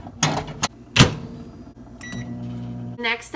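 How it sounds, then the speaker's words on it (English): A microwave oven softening a stick of butter: door clunks and clicks, then a steady low running hum with a few beeps near the end, close and fairly loud. "take our stick of butter and you're going to microwave it for 30 seconds until it's soft"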